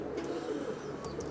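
A Rampuri pigeon coos low and steadily, quiet and close, with no voices over it.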